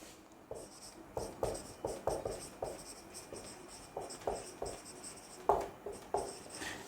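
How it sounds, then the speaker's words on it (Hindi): Chalk or marker strokes on a classroom board during an organic chemistry lecture, a steady series of scratchy taps and short drags with brief pauses, close and clear with no talking. "तो हम इसे लिख सकते हैं"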